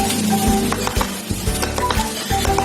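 Banana cake batter with chopped nuts being stirred in a bowl, steady scraping and mixing strokes up close with faint utensil clinks, no talking.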